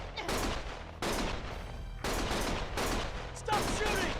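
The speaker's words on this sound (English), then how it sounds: "Stop shooting!" Loud, close bursts of rapid gunfire from a Lost Judgment game scene, fired in several overlapping volleys with sharp onsets about once a second, dense and continuous, with a brief voice shouting near the end.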